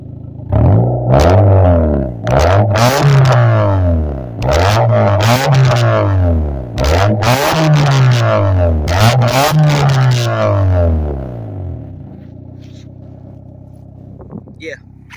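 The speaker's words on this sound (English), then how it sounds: "I want to rev it up. I'm gonna rev it up for y'all so y'all can see." A 1995 Honda Civic engine is revved hard and close about six times in a row, each rev climbing and falling back before the next, ending in a quieter idle.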